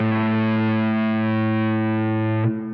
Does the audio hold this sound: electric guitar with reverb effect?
yes